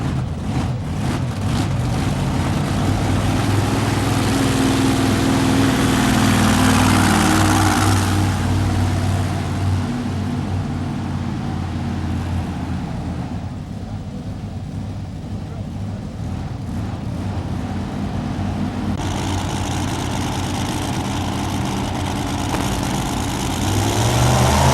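A pulling tractor's engine idles at a farm machinery show, a steady, loud rumble running throughout with an announcer talking over it.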